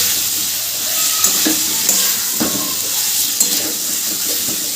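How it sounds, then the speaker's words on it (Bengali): Jackfruit curry with spice masala is stirred and fried in a pan, a steady loud sizzle with scraping spoon strokes against the metal at an uneven rhythm, close up, with no talking. "এবার ভালো করে মশলাটা কষে নিতে হবে।"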